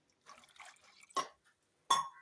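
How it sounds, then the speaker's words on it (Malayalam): Water goes into a cooking pot for a curry in a few short, soft splashes and trickles, two sharper pours standing out near the end amid quiet pauses. "ആവശ്യത്തിനുള്ള വെള്ളം ഒഴിച്ച് കൊടുത്തിട്ടുണ്ട്."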